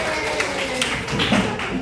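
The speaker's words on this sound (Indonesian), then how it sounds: "Tepuk tangan" A group of trainees in a coding and computational-thinking training session claps briefly after a game, giving a short burst of taps over chatter and talking voices.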